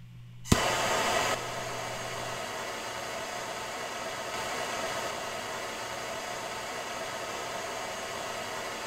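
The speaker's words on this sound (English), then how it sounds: "And light the torch." A gas torch ignites with a sharp pop at a silver melting furnace, then breaks into a steady loud roar with the blower, a continuous broadband rush that holds evenly to the end.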